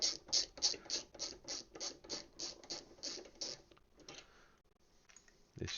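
Screws being undone on a Logitech G25/G27/G29 brake pedal assembly give close, quiet ratcheting clicks in a quick regular rhythm that slows and fades toward the end.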